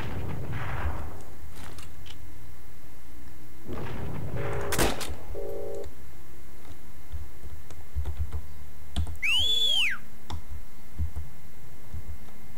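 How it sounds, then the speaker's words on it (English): Computer keyboard keys tapped one after another while trying out the controls of the online war game Heroes and Generals, scattered clicks with short pauses, plus a rising electronic whistle tone from the game near the end. "I'm just tapping all the buttons to see which buttons do."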